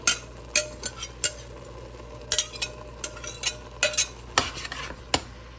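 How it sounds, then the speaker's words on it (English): Onions, celery, peppers and potatoes being stirred in a soup pot, a soft sauté hiss beneath repeated sharp spoon clinks and scrapes against the metal. "And like, let it sort of saute a little bit."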